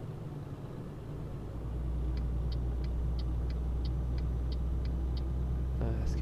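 In Euro Truck Simulator 2, an engine's low rumble swells and then holds at a louder, steady drone, with a regular ticking like a turn indicator partway through.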